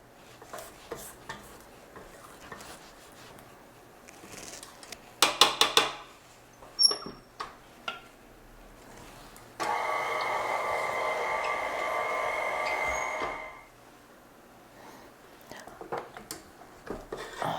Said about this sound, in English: give it one last mix to make sure that everything is mixed together well